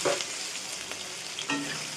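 Potatoes and onions fry in mustard oil over a cumin tempering, giving a brief, close, continuous sizzle with a couple of soft stirring scrapes.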